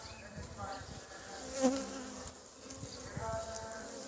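Honeybees buzz softly and steadily around an open ten-frame hive during a spring inspection, with a brief louder swell as one passes close.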